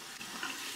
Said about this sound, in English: I'm going to fill it with hot water.